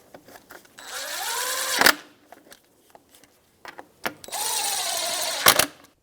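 Bolts on the rear timing belt cover of a 2004-2009 Subaru Outback being tightened with a 10mm socket, heard as two whirring, ratcheting bursts of a couple of seconds each, close by, with faint clicks and handling noise in between.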